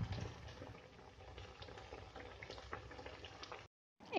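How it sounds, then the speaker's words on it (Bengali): A Mughlai paratha fries in a pan over medium gas heat, giving a soft, steady bubbling sizzle that runs quietly and unbroken before briefly cutting out near the end. "পরোটা ভাজতে একটু সময় লাগবে, একটু সময় ধরে ভাজতে হবে"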